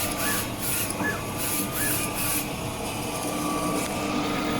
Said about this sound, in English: and then the printer starts to print again.